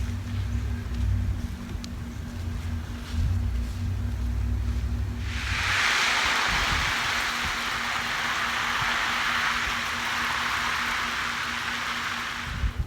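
Water sprays steadily onto newly planted celery seedlings in a garden bed, a sudden, continuous hissing shower that stays close and even to the end.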